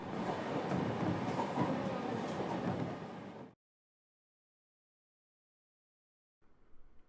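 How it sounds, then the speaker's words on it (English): A train in the video game Higurashi rumbles loudly along for a few seconds, then cuts to silence as it reaches its final stop, followed by a faint, brief return of sound. "It seemed that the train had reached its final stop."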